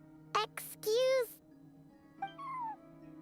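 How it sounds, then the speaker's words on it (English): A cat in a video game lets out a few short meows, fairly close and clear, over a quiet sustained in-game background tone. "No one except for a cat watching over the front desk."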